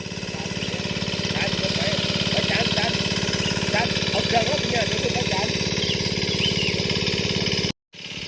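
A water pump motor running steadily at a fish-pond draining, its low regular engine pulse loud and continuous for about eight seconds before it briefly cuts out near the end, with faint voices over it.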